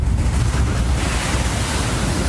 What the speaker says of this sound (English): We are expecting higher waves coming in, and it only takes one for you to be washed out